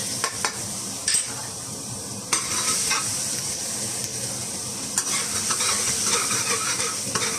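Garlic sizzles in hot oil in a wok, a steady loud crackling hiss with a few sharp clatters of stirring near the start and again around the middle, no voices.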